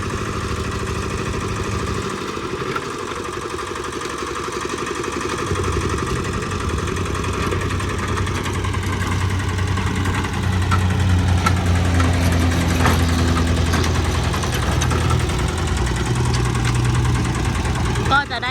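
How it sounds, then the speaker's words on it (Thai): A Kubota ZK8 diesel tractor engine runs steadily, its pitch climbing as it revs up and holding at higher speed, with someone talking over it. "ยิ่งเร่งเครื่องก็จะยิ่งเร็วขึ้นนะคะ"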